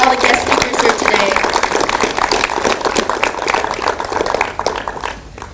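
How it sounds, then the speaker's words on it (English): Audience at a panel talk on success applauding the guest speakers, a dense burst of close hand clapping that runs steadily for several seconds before thinning out, with a voice mixed in. "I'd like to give a warm round of applause to all the guest speakers here today"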